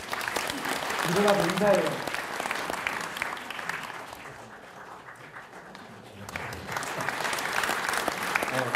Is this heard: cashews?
no